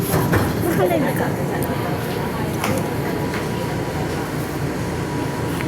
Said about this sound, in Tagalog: Ito po ang loob ng LRT.